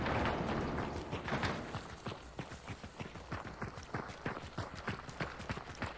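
Horse hooves in the online shooter Hunt: Showdown, a steady galloping clip-clop of many sharp beats running through the whole stretch, fairly loud and close with no talk over it.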